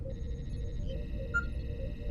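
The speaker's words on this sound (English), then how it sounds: "sorry, that was my phone" A mobile phone rings with steady electronic tones sustained throughout, set against a low background hum, with no one speaking.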